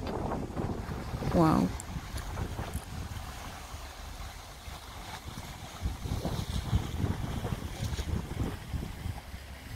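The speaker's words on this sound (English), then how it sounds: "Listen to the sound of that ocean." Surf washes and rumbles continuously in the background, with a breezy hiss and a brief exclaimed word near the start.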